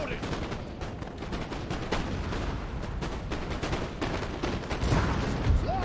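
Artillery firing in a Napoleon: Total War battle, a steady, dense barrage of booming reports and crackling gunfire rolling on without pause, moderately loud and somewhat distant.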